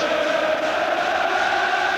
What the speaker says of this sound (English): Well, the noise you hear now coming from the Rangers supporters.